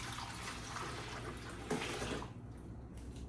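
Water splashes and pours steadily into a pot, a continuous rushing trickle that stops abruptly near the end, leaving quiet.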